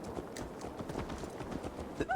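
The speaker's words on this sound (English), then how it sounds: "Let's return the horse." Horse hooves clip-clop at a steady walking rhythm in Assassin's Creed Valhalla, soft and slightly distant under faint game ambience, with no talk.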